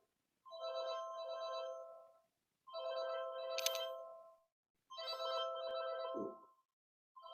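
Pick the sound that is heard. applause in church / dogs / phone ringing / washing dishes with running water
phone ringing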